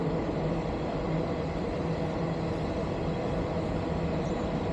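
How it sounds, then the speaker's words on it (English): Train passing overhead on a structure above, heard from below as a steady, muffled broadband rumble that holds constant throughout at moderate loudness. "got a train above us right now"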